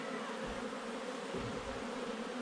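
Honeybees buzz in a steady, continuous drone around a nucleus hive set up with small frames of honey, a dense swarm-like hum filling the whole moment without any voices.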